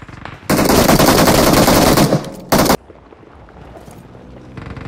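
Rapid automatic gunfire in the mobile battle royale game BGMI, a loud sustained burst of about two seconds, then a short second burst, followed by quieter game ambience.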